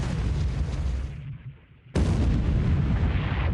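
Naval gunfire from a warship video game lands hits on the battleship Fuso: a loud, sustained roar of blasts cuts out briefly, then a sharp heavy boom slams back in at full force.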